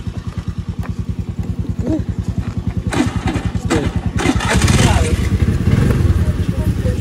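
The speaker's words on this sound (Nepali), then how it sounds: "उयो मेरो स्कुटर स्टार्ट भएन यार, ब्रेक दाबो त यो।" A scooter engine struggles to start, then runs with a close, rapid putter that rises into a louder rev partway through; voices can be heard over it.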